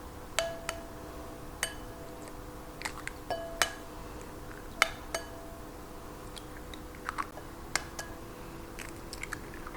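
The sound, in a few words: cracking eggs into a medium bowl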